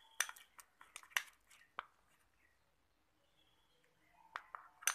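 Spoon clinking and scraping against a bowl while chocolate face mask ingredients are stirred together, a burst of sharp taps early on, then quieter gaps before a few more clinks near the end, close and fairly soft.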